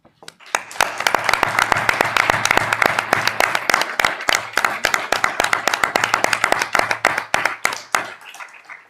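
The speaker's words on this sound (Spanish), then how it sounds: "os pido que les brindemos un afectuoso aplauso" Warm applause rises from the audience at a community cultural event on fashion and labour heritage in Gijón: many sharp, close hand claps build quickly, hold steady and thin out to a few final claps before stopping.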